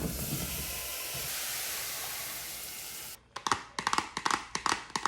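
A steady hiss from a hot pot cuts off suddenly, then diced potatoes land in it with a quick run of sharp taps and clatters, close and fairly loud.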